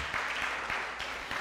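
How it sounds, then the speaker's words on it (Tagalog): A church congregation keeps up steady applause, a continuous mid-level wash of clapping with a few stronger claps standing out, heard without talk. "tuloy natin yung palakpak sa Lord"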